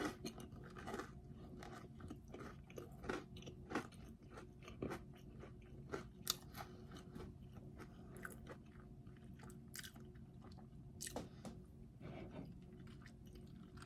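Avocado toast topped with grated egg and tzatziki being eaten up close, soft crunchy bites and moist chewing repeating steadily at low volume with no talking.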